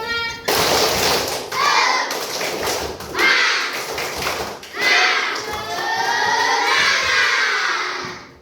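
A classroom of children does a rhythmic group clapping chant, voices shouting in bursts between sharp claps, loud and close with a lively crowd feel throughout.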